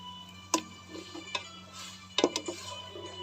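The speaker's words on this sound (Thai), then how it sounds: "อันดับแรกเราใส่น้ำพริกของเราลงไปเลยนะคะ ที่เราต ำอ่า แล้วเราคนให้ละลาย" Spoon clinking against a pot while stirring pounded chili paste into liquid for a Thai herbal gaeng liang soup, a few sharp metallic taps spaced irregularly over a steady low hum.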